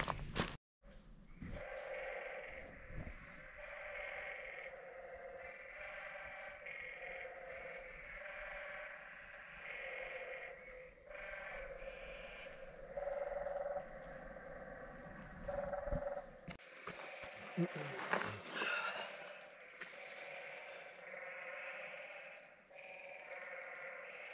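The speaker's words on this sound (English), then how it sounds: "it looks like we have the nightly mating calls going on tonight with the tree frogs that are out here" Tree frogs in the Grand Canyon's Kanab Creek area give their nightly mating calls near a spring, a dense, continuous chorus of pulsing, bleating trills that holds steady throughout at a moderate distance.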